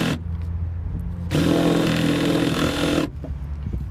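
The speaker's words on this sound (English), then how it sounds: "This is what they call a hole saw." A blunt hole saw on a power drill bores into wood for a BMX kicker ramp in a hardware store car park, a loud grinding burst of about two seconds set between quieter stretches of background noise.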